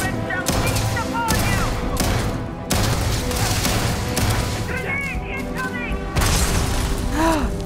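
In Starfield, a fight with Zealots brings sustained gunfire mixed with booming grenade explosions and clattering debris. Shouted voices and whistling effects cut through the dense, loud battle din.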